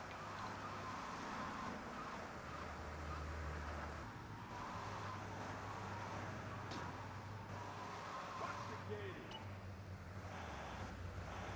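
A Stallion car's engine drones steadily while driving in Grand Theft Auto III, a faint continuous low rumble with road and wind noise throughout.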